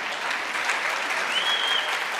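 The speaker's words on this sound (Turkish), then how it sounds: "Alkışlarımız sizler için" Audience applause at a short film competition award ceremony, a steady, dense clapping from a crowd filling the room at close to moderate distance, continuous throughout with no talk over it.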